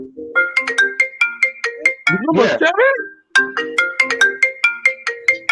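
A mobile phone ringtone playing a loud repeating electronic melody close by during a group conversation, pausing briefly while people talk over it and then resuming.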